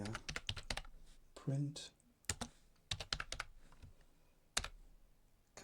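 Fingers tap in short bursts on a computer keyboard while entering Commodore BASIC version 2 code in a retro programming session. Quick clicky keystrokes sound close and soft, with spoken instruction between and over the typing.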